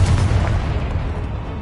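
A Confringo explosive spell from a wizard video game lands as a single heavy low boom, its rumble sustained and fading across the clip with no talk.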